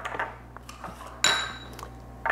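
A lid is set onto a small bowl of holiday spice blend, giving one sharp, close clink partway through, with quieter dish and utensil taps before and after.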